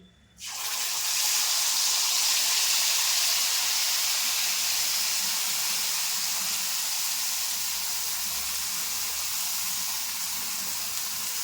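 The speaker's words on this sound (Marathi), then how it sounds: "आता हे मी याच्यात घालते ग्रेव्ही" Gravy poured into hot oil in a pan for chole bhaji, bursting into a loud, steady hiss and sizzle right after a brief quiet start and holding close and strong to the end.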